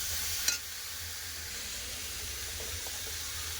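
Vegetables and tomato sauté with salt and spices in a pan, giving a steady, moderately loud sizzle that continues evenly after a single sharp tap near the start.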